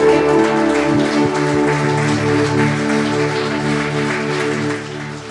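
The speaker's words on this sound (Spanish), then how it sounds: "Dele el mejor de los aplausos al Rey." A church congregation applauding, a dense, steady patter of many hands clapping together that holds loud for several seconds before easing slightly near the end.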